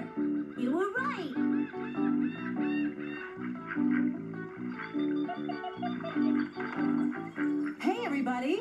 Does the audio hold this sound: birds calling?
yes